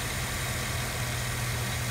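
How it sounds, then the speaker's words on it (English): A 5.3 engine idles steadily after an exhaust manifold leak was fixed with a Dorman clamp. The low, even hum is close and constant, with only normal valve train noise and no talk. "pretty quiet again, right back to just the normal valve train sound"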